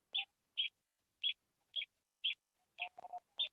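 Faint outdoor bird chirps on a hot day come as short, high, evenly spaced notes, about seven in total, with a brief, slightly fuller flutter of calls near the end and no voices.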